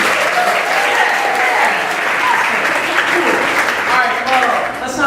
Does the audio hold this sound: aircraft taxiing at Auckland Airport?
no